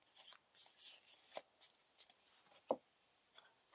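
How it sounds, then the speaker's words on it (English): Cards for a Lord of the Rings living card game are shuffled by hand into a deck, a quiet close series of soft riffling and sliding bursts with one sharper snap near the end. "Shuffle another Eagles of the North into the encounter deck."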